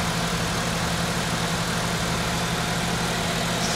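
The 1.5-liter VTEC engine of a 2015 Honda CR-Z EX idles steadily up close, a smooth continuous hum with no talk over it.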